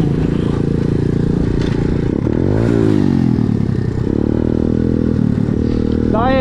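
A small pit bike engine roars close by, revving up and down with rising and falling pitch, and a voice speaks briefly under it.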